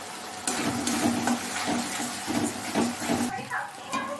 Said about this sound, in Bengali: এবার এটাকে কষতে হবে